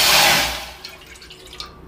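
Water pours into a pan to make sugar syrup for bread gulab jamun, a brief rushing splash that fades within a second, followed by faint drips and small clinks.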